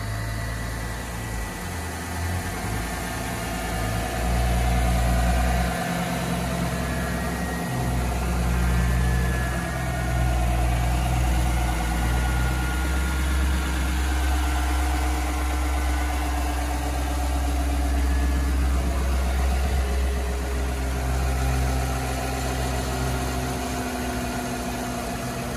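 A 2014 Chevrolet Silverado 1500 pickup's 5.3 V8 gas engine idles steadily, a deep continuous rumble with a low throb and slight vibration, close by and unchanging throughout.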